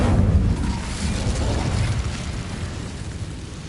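A fire spell blast cast in Hogwarts Legacy, a deep, roaring burst of flame that swells at once and rumbles on steadily, loud and close, with no voices over it.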